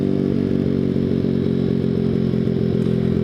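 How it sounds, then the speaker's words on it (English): A Grom clone motorcycle with a ZS190 motor rides along, its mid-pitched single-cylinder engine droning steadily and loudly with a regular pulsing beat and some clatter throughout. "The ZS190 motor in one of these Grom clones is just so perfect."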